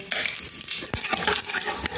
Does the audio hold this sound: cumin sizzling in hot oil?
yes